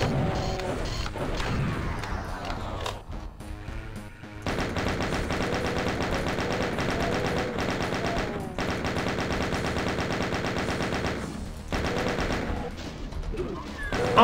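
Rapid machine-gun fire from chaingunner enemies in Doom, continuous rattling bursts that stop briefly and resume, with crashes and thuds among them and no voices.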